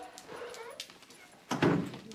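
A dog whimpers in thin, high whines, then gives a louder, sharper bark-like yelp near the end, close by over a quiet background.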